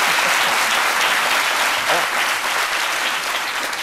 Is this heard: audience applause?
yes